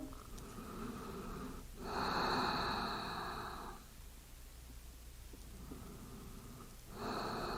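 Slow, deep breaths during a yoga stretch on the floor, each long airy inhale or exhale swelling and fading, close to the microphone and unaccompanied by talk.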